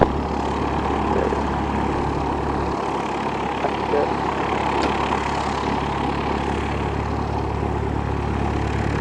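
A Cessna airplane departs on a runway, its propeller engine drone steady and fairly loud throughout, with a faint voice under the noise.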